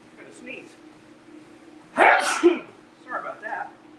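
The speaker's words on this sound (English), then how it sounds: "Sneeze." A single sharp sneeze bursts out midway through a quiet stretch, followed by faint rustling and small sounds.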